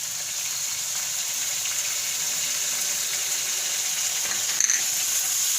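Chopped onion fries in hot oil in a pan, giving a steady, even sizzling hiss, close and moderately loud, with a brief clatter near the end.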